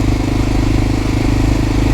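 A 1988 Honda Dominator motorcycle engine revving hard at around 3,500 rpm, a loud, close, continuous throbbing roar with a steady pulsing rhythm.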